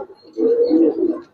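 A single close, loud, throaty coo rises and falls over about a second from a military-breed pigeon.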